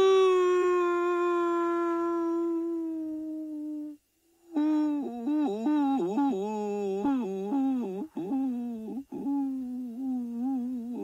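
A person imitates a wolf, howling at the moon outdoors on a safari outing: one long sustained howl, a brief silence, then a run of wavering, rising and falling howls, loud and close.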